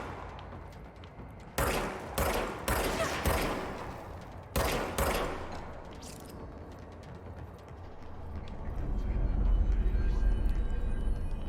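Enemy gunfire in the video game Control comes as a cluster of loud bursts of shots over a steady mechanical game backdrop, then gives way to a rising low rumble.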